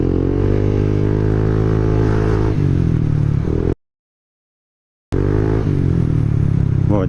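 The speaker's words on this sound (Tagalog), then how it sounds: "Ito last, yung tunog ng pipe natin." A Honda Click 160 scooter with a loud aftermarket Jad Racing exhaust pipe revs hard nearby, dropping briefly to silence before another sharp rev rises again.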